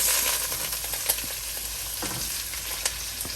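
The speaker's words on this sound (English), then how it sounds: "I'm gonna saute this down until the onion becomes transparent" Onions sauté in a pot for Guyanese crab curry, a steady close sizzle with occasional faint clicks of a spoon against the pot.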